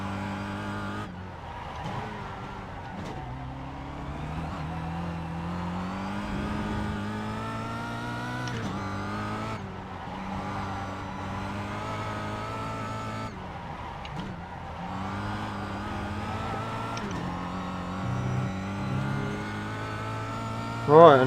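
Race car engine in the iRacing sim revs steadily for about twenty seconds, its harmonic drone rising and falling with gear changes, sustained and fairly loud throughout.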